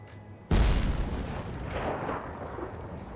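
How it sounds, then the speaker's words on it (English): A sudden loud explosion in the video game SINTPOIA, a sharp heavy blast that hits at once and then rumbles and crackles on as a long, slowly fading roar of fire and debris. "Go on. Explode. Explode. Please."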